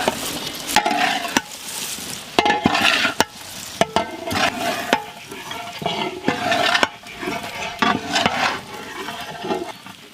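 Fish pieces being stirred in a pan with turmeric and salt for Kerala-style fish pickle, repeated scraping strokes and clatters over a steady sizzle, loud and close with no talking.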